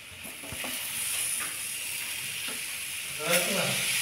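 Sweet potato for halwa frying in a pan with sugar added: a steady, moderate sizzle with intermittent scraping and stirring clicks, close and unaccompanied by talk.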